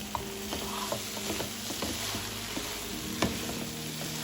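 Chicken curry gravy with garam masala frying over a medium-high flame, a steady close sizzle with intermittent scraping and tapping as it is stirred frequently, no talking.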